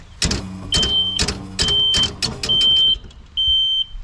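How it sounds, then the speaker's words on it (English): A Ryobi battery zero-turn lawn mower's roll-away warning beep sounds repeatedly in short, evenly spaced high electronic tones, each accompanied by clicking and mechanical rattling nearby. "it will beep to let you know that it can roll away"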